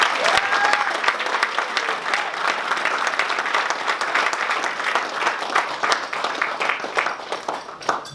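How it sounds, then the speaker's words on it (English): Sustained applause from a large audience at an evening honoree event for a tennis charity, dense even clapping that holds steady for about eight seconds, close and fairly loud, with a few faint voices mixed in. "if you all join me in a round of applause for Mike"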